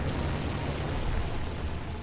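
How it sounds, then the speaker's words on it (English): A huge spell explosion in Final Fantasy VIII roars as a loud, sustained wash of crackling, rumbling noise, steady throughout with no voices. "that was a mighty huge explosion for that"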